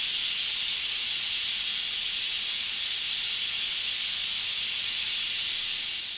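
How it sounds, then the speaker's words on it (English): An Instant Pot vents steam, making a loud, continuous, close hiss that stays steady throughout with no voices. "It's been about like 5 to 10 minutes of it just releasing the steam"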